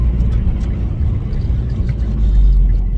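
A turbocharged Mazdaspeed car spins its tires on a wet, snowy road, with a loud, steady low engine rumble and roar that swells slightly near the end.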